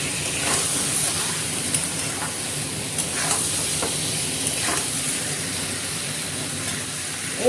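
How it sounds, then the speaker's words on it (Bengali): Vegetables for a Bengali potato chorchori fry in a pan with a steady, even sizzle and hiss, with occasional soft scrapes and stirs. No talking is heard. "এবার এটাকে আমি নেড়ে নিচ্ছি"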